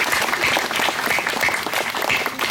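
A hall full of young people at a meditation session breaks into dense, continuous applause, loud and even throughout with no talk on top.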